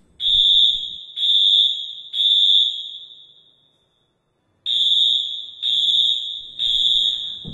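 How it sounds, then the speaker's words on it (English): A shrill, piercing university building fire alarm sounds in repeated loud beeps, three in a row, a pause, then three more. "This is what the fire alarm sounds like."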